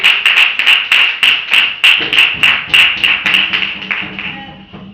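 A church congregation claps in acclaim for Jesus during a service, a steady, rhythmic run of many hands striking together that fills the space and eases slightly toward the end.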